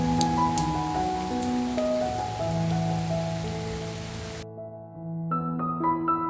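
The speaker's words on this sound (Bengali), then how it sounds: "তো যেহেতু বৃষ্টি পড়ছে" Steady rain falls as a dense, even hiss that stops abruptly partway through, with soft background music running beneath it and no talk.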